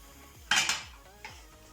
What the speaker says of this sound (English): I'll stir it carefully, mix it with the oil.